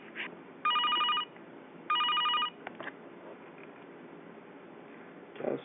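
An outgoing call placed on an AT&T corded trim line phone rings back through the handset, two evenly spaced electronic ring bursts of about half a second each, clear and fairly faint over a quiet line hiss.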